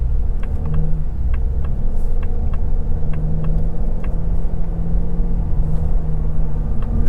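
A 2024 Ford Mustang EcoBoost Premium's engine restarts after auto start-stop, then idles with a steady low rumble heard from inside the car, punctuated by faint ticking clicks.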